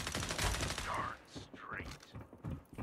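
Rapid bursts of gunfire in the first-person shooter FragPunk crackle through a dense, noisy mix, with overlapping shots and a few whooshing effects in the background.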